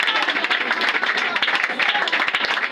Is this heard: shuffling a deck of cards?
no